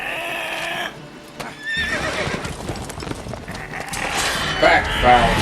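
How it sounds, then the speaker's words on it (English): A horse in The Witcher 3 video game neighs and whinnies amid clopping hooves, fairly loud and close, with speech over parts of the clip. "That poor little horse."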